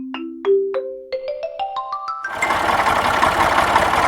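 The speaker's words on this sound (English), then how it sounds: "This is a tractor." A farm tractor engine: a rising series of chime-like tones, then the engine rumbles into life and keeps running steadily and fairly loud.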